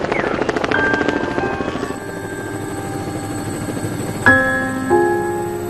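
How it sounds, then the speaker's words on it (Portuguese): A helicopter over hills near Calabasas, its rotor and engine noise loud and close at first, then easing, with sharp ringing tones cutting in near the end. "testemunhas veem um helicóptero emergir das nuvens e atingir o solo."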